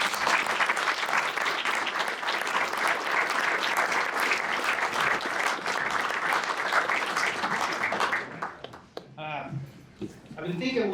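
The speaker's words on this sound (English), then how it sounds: "Let's give them a round of applause." An audience applauds firefighters at a Utah government event on cancer screening for firefighters, with dense, steady clapping for about eight seconds before it thins out and a voice begins speaking.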